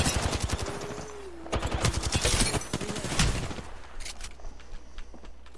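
Rapid automatic gunfire and sharp shots from an Apex Legends firefight, loud and dense in bursts throughout, with a short tonal effect early on and quieter tails toward the end.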